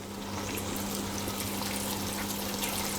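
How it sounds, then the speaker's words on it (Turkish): Hot water pours steadily into a pot of fresh green beans being cooked into a bean soup, a continuous close liquid stream with no speech. "Suyunu koymaya başlayın."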